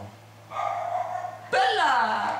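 A dog lets out a couple of loud, sharp barks up close, with a yelping, whining edge, under faint background noise.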